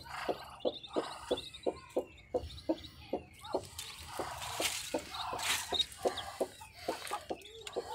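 A broody hen clucks in short, regular pulses close by, with softer chirping birds and a brief rise of rustling noise in the middle.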